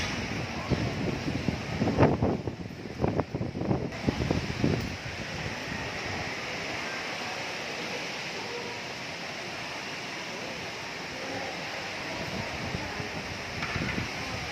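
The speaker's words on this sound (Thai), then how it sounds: "วันนี้ลมพายุมาใหญ่เลยค่ะ ลมแรงมาก" Strong stormy wind blows across the grounds of Wat Suthat temple in Bangkok, a steady broadband roar with heavier gusts near the start and again at the end, with no talking.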